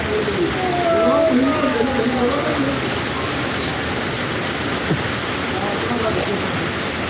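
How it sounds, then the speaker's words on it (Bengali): Heavy rain pours down in a steady, dense hiss that fills the whole stretch, with a faint voice briefly audible beneath the downpour. "প্রচণ্ড বৃষ্টি হচ্ছে বন্ধুরা প্রচণ্ড বৃষ্টি"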